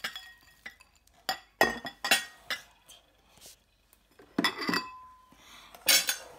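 Rice and mince being mixed in a bowl for Assyrian dolma stuffing, with close, sharp utensil clinks and scrapes against the dish in irregular bursts separated by short pauses.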